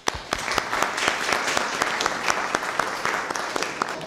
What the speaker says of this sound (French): on va comme t'applaudir